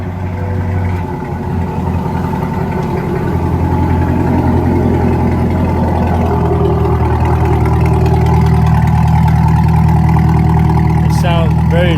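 A C8 Corvette engine and exhaust running loud and throaty nearby, a steady deep rumble that builds slightly in intensity across the stretch, with no pauses.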